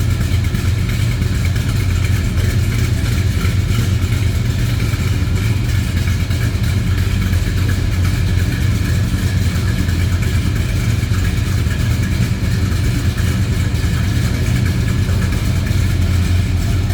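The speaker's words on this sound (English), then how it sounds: "big 440 underneath the hood. Listen to this rumble." A 1963 Plymouth Belvedere's 440 V8 idles with a deep, steady rumble at close range, a loud low-pitched drone with no talking over it.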